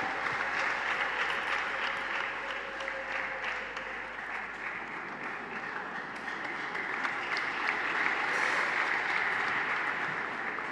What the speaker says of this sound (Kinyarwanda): abakristo bose ba diocese yacu mumfashe duhe Imana amashyi